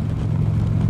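Harley-Davidson motorcycle riding on pavement, a steady low engine rumble up close that holds constant and loud throughout, with no voices.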